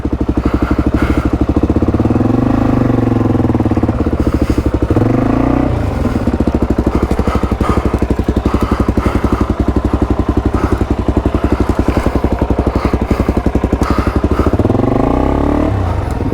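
Suzuki DRZ400E dirt bike engine straining on a rough fire trail, loud and close, with a continuous throbbing thump and repeated rising revs as the rider pushes it over the terrain.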